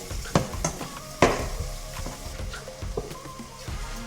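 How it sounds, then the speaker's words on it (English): Sliced banana frying in a pan while a plastic spatula stirs and scrapes it, with a soft continuous sizzle and a few sharper knocks of the spatula against the pan. "So banana in the pan."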